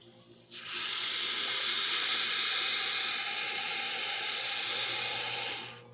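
A steady rushing hiss of hot water jetting from an Alex Duetto espresso machine's hot water spout runs for about five seconds, starting and stopping abruptly.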